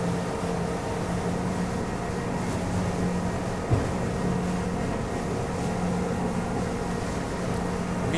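A ZAR 95 SL maxi RIB boat cruises at around 25 knots, its outboard engine droning steadily with wind and water rush, constant and close with a single bump midway.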